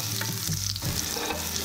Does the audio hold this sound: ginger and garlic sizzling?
yes